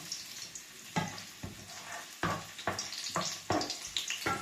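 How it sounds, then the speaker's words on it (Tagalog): Chopped garlic crackles and spits in hot cooking oil in a frying pan, a steady close sizzle with several louder bursts as it is stirred, no voices. "lagay na po natin ang ating bawang. Ayan, mainit na po yung ating mantika"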